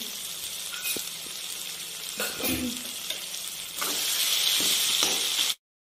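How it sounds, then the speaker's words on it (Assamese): A spice paste of cloves, cardamom, cinnamon and black pepper sizzles steadily in hot oil in a pan for jackfruit curry, with occasional stirring scrapes and a hissing rise near the end before it cuts off. "এইখিনি গোটেইখিনি ধুনীয়াকৈ ভাজি ল'লোঁ"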